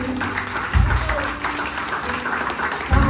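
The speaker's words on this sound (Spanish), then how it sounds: "Recibe esta ofrenda de aplausos, Señor, para ti" Congregation clapping during a Spanish-language church worship service, a continuous busy patter with low thumps and bursts, heard alongside voices and music.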